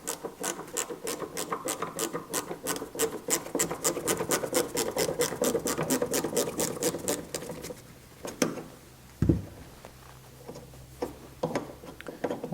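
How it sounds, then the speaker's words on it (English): A ratchet with an extension backs out a T40 Torx fastener on a 2018-or-newer Jeep Wrangler JL tail light, giving a rapid, even train of close clicks that stops, leaving a few scattered knocks and taps. "I'm going to go ahead and insert that T40 Torx and start backing it out"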